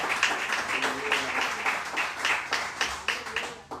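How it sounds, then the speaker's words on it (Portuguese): Church congregation applauding at a Nova Vida church service, with steady clapping throughout, rhythmic bursts suggesting some unison claps, and faint voices mixed in. "aplauda ao Senhor com o seu melhor"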